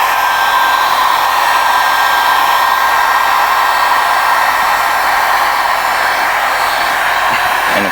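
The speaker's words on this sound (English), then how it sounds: "start slowly heating up this panel" A heat gun blows steadily on a car bumper panel during paintless dent repair, a loud continuous airy rush that holds even for the whole stretch with no talk over it.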